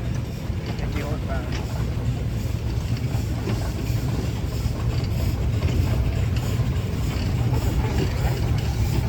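A 1916 Case 50 horsepower steam traction engine rolls past in a parade of power, a steady low rumble and chuff under constant wind and crowd noise, with an announcer talking over it.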